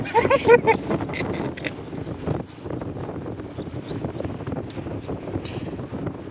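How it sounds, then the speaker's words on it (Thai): Strong wind buffets the microphone beside a fishing pond, a steady rough roar with gusty surges throughout, and a voice speaking briefly at the start. "ลมก็แรงนะครับ"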